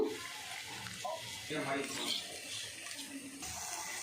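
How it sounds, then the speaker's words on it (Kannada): Water runs and splashes into a bowl of cornflour for a few seconds, a steady pouring sound with a soft rushing hiss, close by with some background noise. "ಸ್ವಲ್ಪ ನೀರು ಹಾಕಿ ಕಲಿಸ್ಕೋಬೇಕು"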